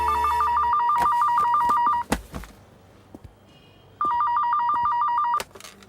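A landline telephone in a Tamil film rings with an electronic trilling double burst. It stops with a couple of clicks and handling knocks, then rings again for another burst, loud and close.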